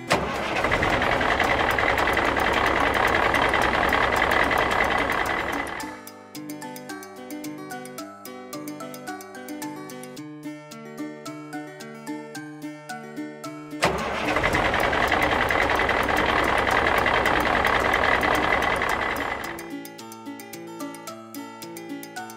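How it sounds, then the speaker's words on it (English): A garbage truck engine, heard as two long, loud bursts of rough engine running, each followed by a stretch of stepped tonal sounds, alternating across about twenty seconds. "Garbage truck."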